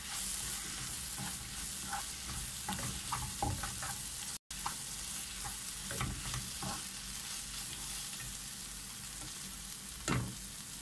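A spicy sausage mixture is stirred and fried in a pan with a steady sizzle, while a spatula scrapes and knocks against the pan at irregular intervals, including a louder scrape near the end. No one speaks.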